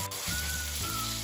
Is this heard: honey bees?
no